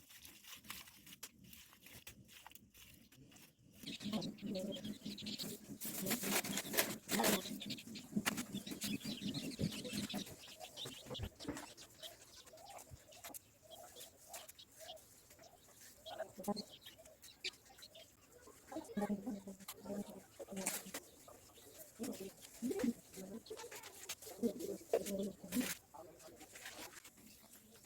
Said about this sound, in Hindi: उसी में चिड़ियाँ बैठी हैं और चहचहा रही हैं